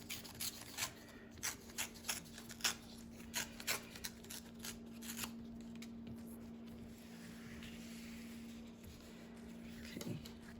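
A sheet of white paper is torn in a run of quick, faint ripping strokes, then a softer, steadier rustle follows, heard close up against a low constant hum.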